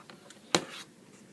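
A pen scratches briefly on paper while a label is marked on a topographic map grid, with soft strokes, one sharp tap in the middle, and quiet room tone around it.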